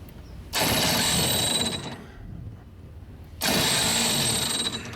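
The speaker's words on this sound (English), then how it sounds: "I have to go on to the starter, make sure it's out of gear" A starter motor cranks an out-of-gear engine that has only a tiny bit of petrol in it. Two loud, rough bursts of cranking are separated by a quieter pause, with no talking.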